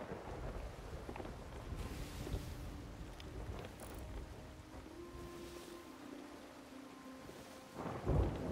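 Thunderstorm at sea in the Sea of Thieves game, with low rumbling thunder, steady rain and rolling ocean water around a ship, plus a soft tonal hum midway and a heavier swell near the end, without speech.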